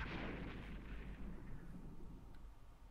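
Explosion of a destroyed Russian aircraft in the naval combat game Modern Air Naval Operations, Baltic theatre, heard as a loud, rumbling blast sustained for several seconds before slowly fading.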